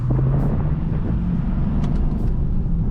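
Steady low induction rumble from a stock Mercedes C63 replacement car under way through a turn, a continuous near engine drone with faint higher clicks and no talk.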